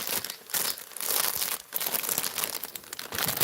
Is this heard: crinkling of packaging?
yes